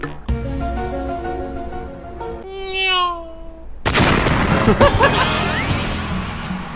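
A grenade explodes in a snowy first-person video game, a sudden loud blast of broadband noise that bursts in after a few seconds of bright electronic game tones and keeps rumbling on to the end.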